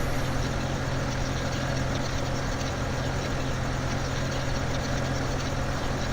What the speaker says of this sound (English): Little tractor does pretty good on the old tedder here.